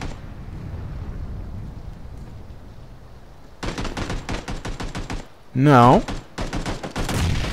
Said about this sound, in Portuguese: Tu tá atirando, não?